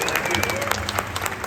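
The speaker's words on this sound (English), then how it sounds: "Round of applause" An audience claps loudly and continuously for William Shatner, dense applause filling the brief moment.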